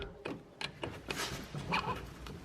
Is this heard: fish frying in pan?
no